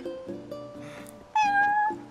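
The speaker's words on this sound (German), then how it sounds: "Eine Katze." In Final Fantasy 15 a cat meows several times in quick succession, close and clear, with one longer, rising meow near the end.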